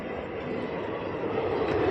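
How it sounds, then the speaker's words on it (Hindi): A train rumbles past nearby at a steady, fairly loud level, its broadband roar continuous and building slightly toward the end, with no talking. "देखो ट्रेन जा रही, कौन सी ट्रेन कर गई?"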